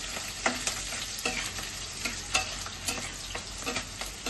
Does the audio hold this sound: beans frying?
yes